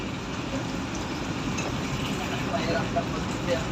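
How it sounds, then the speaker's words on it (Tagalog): Steady rain falls on a vessel at sea, a continuous broadband hiss with faint patter that holds evenly throughout, with no talking. "At may ulan naman kami."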